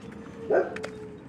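Dog giving a single short, fairly close bark or yip, loud for a moment, then fading into faint room noise.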